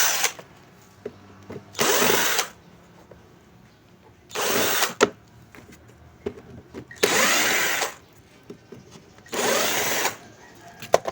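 A power drill unscrewing screws from the underside of a chargeable sprayer that won't work. Four separate whirring bursts of about half a second to a second each, close and loud, with quiet handling clicks between them.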